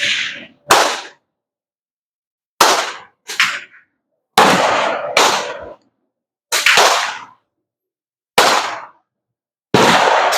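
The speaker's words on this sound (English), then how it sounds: "shooting a white mountain carbine" Eight sharp, loud reports from a black powder White Mountain carbine at a shooting range, each crack ringing briefly before dying out, spaced irregularly with short silences between shots.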